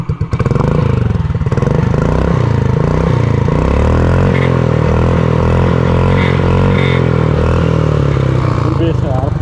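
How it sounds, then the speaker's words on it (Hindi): A modified Yamaha Ray Z scooter exhaust revs close by, sounding as a loud, rumbling, bassy engine note that rises and falls through repeated throttle blips, with a voice talking over it. "इसके पहले एग्जॉस्ट के साउंड सुनाता मैं,"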